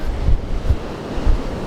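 Strong gusting wind buffets an exposed beach with waves surging and breaking close by, a steady loud roar with low rumbling bursts from the wind on the microphone.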